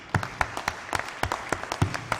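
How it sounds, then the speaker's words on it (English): Irregular hand claps from a small audience at a talk at Howard University, a dozen or so sharp separate claps spread over a couple of seconds, fairly faint, with no voices over them. "So I applaud you. I'm going to applaud you."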